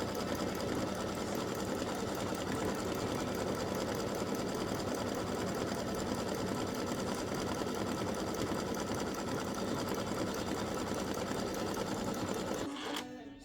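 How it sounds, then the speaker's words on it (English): An embroidery machine sews a satin stitch on a Halloween pumpkin face design, a continuous fast mechanical whirring and rhythmic needle clatter, close and steady, stopping abruptly at the end. "we just finished stitching the satin stitch"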